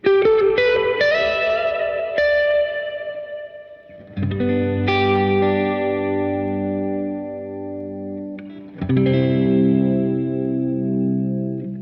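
Guitar notes and chords played through a UAFX Golden Reverberator pedal with subtle modulation, a few strums ringing out and slowly fading with a gently wavering shimmer.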